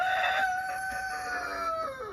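A cockerel crows once, close and clear, in a hen run on a British homestead smallholding, with a long drawn-out call that trails off at the end and no talk.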